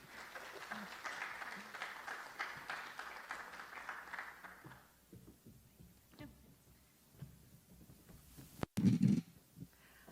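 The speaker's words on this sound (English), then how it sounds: "welcome applause." Audience welcoming applause for an archaeologist at a talk, moderate and fading out after a few seconds, followed by quieter room sounds and a couple of loud thumps near the end.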